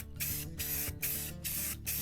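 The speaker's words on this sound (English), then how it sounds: "spray paint these bad boys before I seal them up" Rust-Oleum satin blue spray paint hisses from a can onto boat trailer bunks in about five short, close bursts separated by brief pauses.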